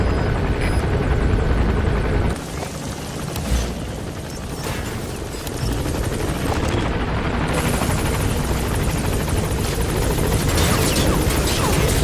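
In Metal Gear Solid 5, the support helicopter Pequod arrives at a landing zone, a loud, close, whirring rotor roar with a heavy low thump around the middle, continuing without letup.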